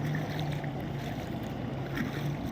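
Car moving through knee-deep floodwater in a flooded residential colony after heavy rain, a steady swishing and churning of water with a low engine drone, no talking.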